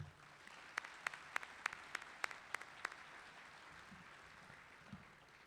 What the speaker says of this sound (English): Please join me in a round of applause for our 2021 retirees.